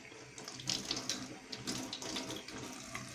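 Tap water runs over a hot pepper being washed at a sink, a close, steady rush with light splashing and spattering as the pepper is turned under the stream.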